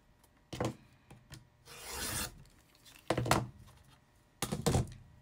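A rotary cutter slices diagonally through layered quilt fabric on a cutting mat, giving a few short rasping strokes and a longer scraping cut with quiet gaps between them, close and fairly soft.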